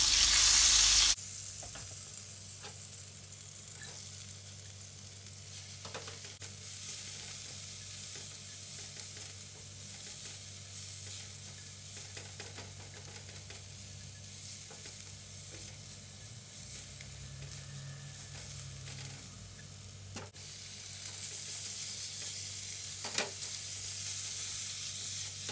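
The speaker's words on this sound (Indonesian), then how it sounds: "Tumis bawang putih dan bawang bombay sampai benar-benar layu, lalu disusul" Garlic, onion and chicken sauté in about a tablespoon of margarine in a pan, giving a low, steady sizzle with occasional stirring clicks, no talking.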